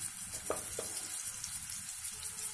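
Mustard seeds, cumin and urad dal frying in hot oil for a curry, a steady close sizzle with a couple of brief sharp pops near the start and no talk.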